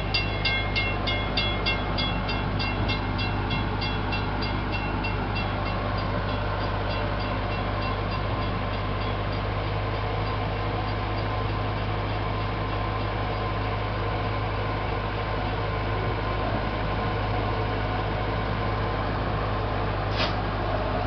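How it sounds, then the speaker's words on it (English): The Gatorland park train rolls through its station with a loud, steady low rumble and mechanical drone, a faint repeating clatter early on and a brief high squeal near the end, no voices. "Please keep your body parts inside the train as we go through the train station."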